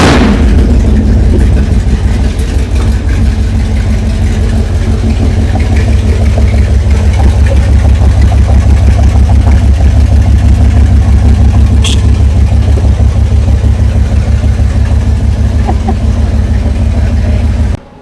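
Mopar Plymouth Barracuda engine after an electronic ignition conversion, idling loud and steady at close range with a deep continuous rumble, a slight blip near the end, then cutting off.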